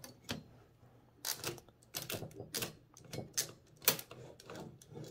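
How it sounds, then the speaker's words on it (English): Mechanical clatter of a Blickensderfer typewriter's carriage release, a series of sharp metallic clacks and ratchet snaps in irregular bursts, close and fairly loud. "Carriage release, or you hold down the space bar."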